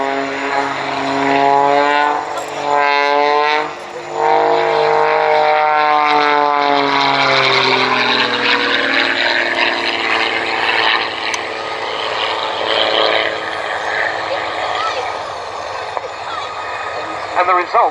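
A propeller aerobatic airplane with a modified engine cowling and new rudder performs at an airshow, its loud engine droning steadily with rising and falling pitch as it maneuvers, joined briefly by a commentator's voice.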